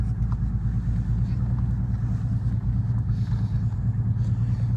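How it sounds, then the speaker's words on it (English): Idling engine of a 1990 Pontiac Grand Prix with a misfire and coolant leak, a steady low rumble with uneven pulsing, close and continuous throughout. "I'm not gonna run her too long because she does got a coolant leak"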